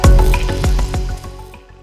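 A sonification of the black hole in the Perseus galaxy cluster plays as loud, deep, wavering tones with repeated pulsing swells that fade toward the end.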